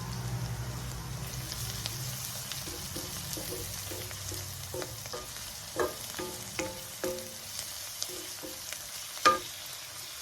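Chopped garlic for a mushroom risotto sizzles quietly in a hot pan, with a soft steady frying hiss punctuated by occasional clicks and taps of a utensil stirring.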